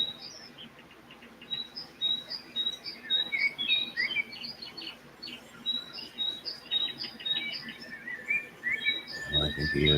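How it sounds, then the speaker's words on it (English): Small bird chirping outdoors, repeated short high tweets scattered throughout over a soft background hiss, with a brief low thump near the end. "Oh, hold on, we're getting some action. It's a bird."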